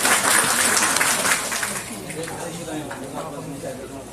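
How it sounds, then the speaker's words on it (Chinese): An audience at a Taiwanese domestic coffee bean evaluation event applauds an agriculture official, a burst of clapping that fades after a second or so while a voice talks over it. "来，掌声为曹基正"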